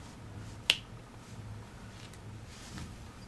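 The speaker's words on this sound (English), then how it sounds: "now if I snap my fingers again" One sharp, crisp finger snap during a card trick, heard once near the start, then quiet room tone follows.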